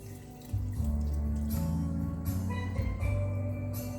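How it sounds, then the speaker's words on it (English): Water runs from a kitchen tap into a pot of potatoes being covered for a Caribbean potato salad, a steady close pouring rush with shifting tone as the pot fills, with no talking. "you want to put water in here to cover your potatoes"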